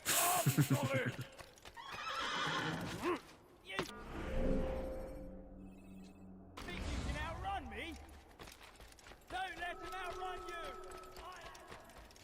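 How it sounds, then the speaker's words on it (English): A horse in the Assassin's Creed video game whinnies loudly and its hooves clip-clop, mixed with game sound effects and people talking between the calls. "Let's just borrow this guy's horse."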